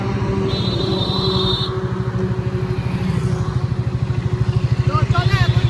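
A Triumph 350cc motorcycle runs with a steady, loud pulsing engine note that grows more rhythmic toward the end, close by at an outdoor launch event.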